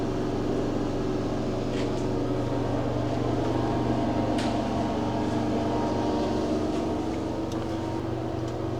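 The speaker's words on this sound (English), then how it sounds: "The fan just kicked on, so sorry if you can hear that." A fan in the bathroom of a Cars Family Suite at Disney's Art of Animation Resort runs with a constant low mechanical hum and drone, steady and unchanging throughout, with a few faint clicks and no talking.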